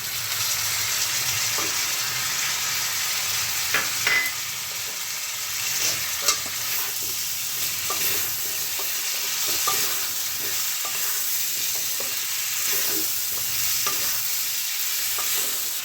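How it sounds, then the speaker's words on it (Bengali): Fish head and chopped tomato frying in a pan give off a steady sizzle, with a spatula stirring through it and scraping now and then, close and continuous, with no voices. "এবার আমি এটাকে ভালো করে মিক্স করে নেব"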